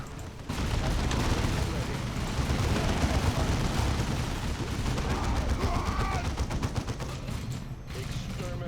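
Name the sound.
heavy bolter gunfire in Dawn of War 2 video game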